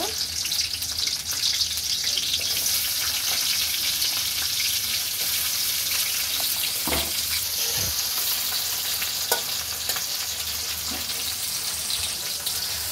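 Chopped onions fry in hot oil for a vegetable pasta, giving a steady, dense sizzle that runs the whole time with a few scrapes and clinks of stirring, with no one talking.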